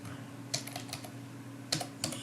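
Code is typed on a computer keyboard while building a grid view in Android Studio, a few sharp close key clicks at irregular intervals over a steady low hum.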